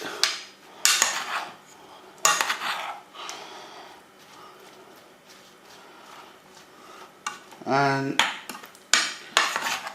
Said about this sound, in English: All you do now is give it a good stir around to get everything incorporated